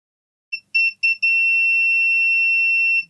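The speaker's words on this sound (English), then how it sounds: "get our meter into continuity mode, which is the mode that beeps when we have a complete circuit" A multimeter in continuity mode on a shorted capacitor of a MacBook Pro A1708 logic board gives a few short, stuttering beeps, then one loud, steady high-pitched tone that holds for nearly two seconds before cutting off.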